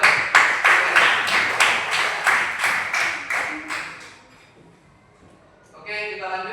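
A classroom of students claps together in a steady, rhythmic pattern of about a dozen clear beats, which then stops and leaves a quiet gap before a voice begins speaking.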